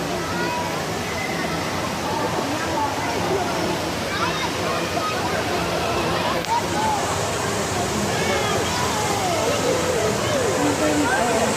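Splashing and sloshing water in a warm indoor swimming pool at Whinfell Forest, steady and fairly loud throughout, with people's voices and a babble of chatter mixed in.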